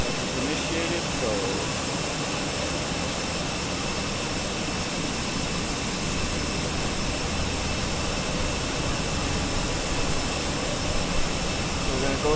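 Airliner jet engines spooling up during pushback on a flight from Helsinki, a steady loud broadband roar with high whine tones, continuous and close, with a voice speaking over it.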